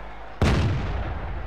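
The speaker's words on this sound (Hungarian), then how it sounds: "Egymás után történnek a lövések, egyelőre céltalanul." A single sharp tank-cannon blast from a tank football video game booms after a brief lull, then leaves a loud, lingering rumble over steady game noise.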